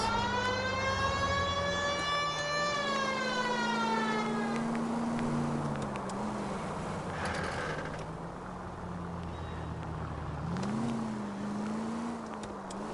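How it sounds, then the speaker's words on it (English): A police car siren in L.A. Noire wails loudly and continuously, sliding in long rising and falling sweeps over a steady engine rumble, with no talk. "I'm gonna use the sirens whenever I can, dude."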